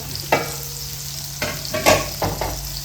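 Cumin and garlic frying in a pan of hot oil, a steady sizzle with a few louder stirring scrapes and clatters spaced through it, close up and with no voices.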